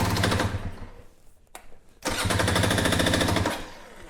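A dirt bike engine fitted with a Lectron Billetron Pro Big Air carburetor fires up on choke, running loud and rapid with a staccato, machine-gun-like putter, dipping briefly before catching again and revving at full strength.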